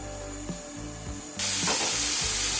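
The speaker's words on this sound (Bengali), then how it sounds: "আমি এবার মশলাটা কষিয়ে নিব" Onion and spice masala for a quail egg curry fries in a pan, a close sizzle with occasional stirring clicks that suddenly swells into a loud, bright hiss partway through.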